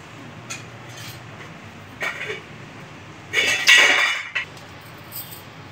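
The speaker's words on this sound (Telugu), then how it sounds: "స్టవ్ వెలిగించుకొని ప్యాన్ పెట్టి 3 టేబుల్ స్పూన్స్ ఆయిల్ వేసుకోండి." A pan set down on a lit stove with a few clinks and knocks, then oil poured in, brief bursts of clatter and splashing while preparing jeera palak rice; no talking.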